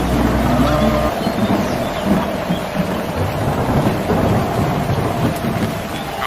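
Heavy rain pours steadily while a deep thunder rumble rolls beneath it, loud and continuous throughout.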